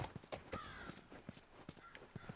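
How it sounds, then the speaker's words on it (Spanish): Horse in The Last of Us on PS3 clip-clopping along in a steady run of hoof beats, moderately close, with game ambience and occasional faint snorts. "Ah, que me tengo que montar el caballo."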